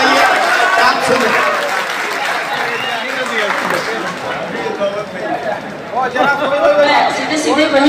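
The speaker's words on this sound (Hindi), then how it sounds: "इसी तरह से जरा सा एक बार तालियों की गूंज में बताइए आप सुने।" Applause from a mushaira poetry gathering audience, a dense steady wash of clapping lasting throughout, mixed with crowd chatter and voices.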